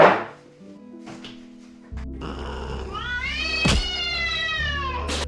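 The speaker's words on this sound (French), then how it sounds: "le chat, il commençait à partir en couille, il a miaou, miaou, miaou, miaou, il grattait sur la porte" A house cat meows loudly and repeatedly at close range, several drawn-out rising and falling cries in quick succession, with a brief thump midway; no clear scratching on the door is evident.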